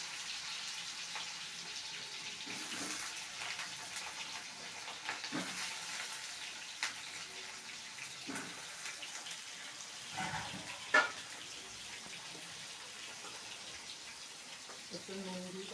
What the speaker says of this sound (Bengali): এবার একটু আলুগুলোকে ভেজে নিচ্ছি